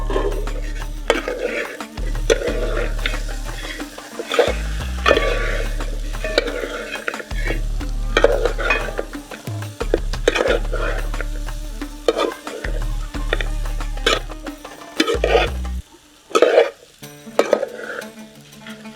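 Cherthala-style chicken perattu with crushed fennel is stirred in a pan, giving repeated close scraping and clanking strokes over a steady sizzle, loud and rhythmic, with a few sharper metallic knocks near the end.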